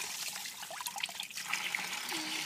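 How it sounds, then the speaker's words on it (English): Running water splashes and trickles steadily from a tap as small hands are washed, a close, continuous rush with a faint voice in the background. "Last one now. Washing your hands."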